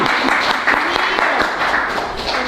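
Sustained audience applause from a crowd at a Latino Caucus endorsement event and social in Washington, D.C., steady dense clapping filling the room for the full stretch at a loud, even level.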